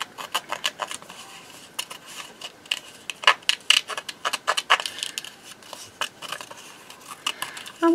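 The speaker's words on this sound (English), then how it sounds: "just get my scissors, just fussy cut around here" Scissors fussy-cutting around paper ephemera close up, a quick series of crisp cuts in irregular bursts with short pauses between, no talking.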